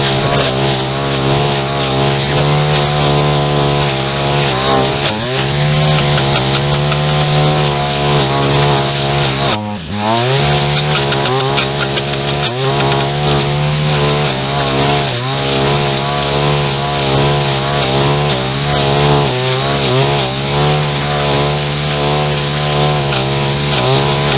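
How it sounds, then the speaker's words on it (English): A brush cutter blade chews through overgrown bushes, its engine screaming loud and close in a continuous high drone that dips briefly once as the load changes, then surges back. "Coming in on the bushes like you would a string trimmer, cutting them up as you go, instead of just cutting them off at the ground"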